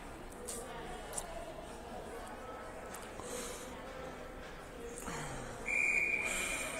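A referee blows a single sharp whistle at the start of a high-school hockey game. It is loud and close and sounds near the end over a rink's murmur, with earlier faint whistle blasts and distant voices.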